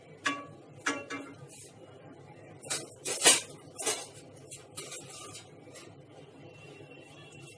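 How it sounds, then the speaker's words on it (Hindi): Ladle clinking and scraping in a pan as oil is added to gram flour, scattered metallic taps and a brief pour-like hiss over a quiet kitchen background. "एक कड़छी से हम ऑयल डाल देते हैं।"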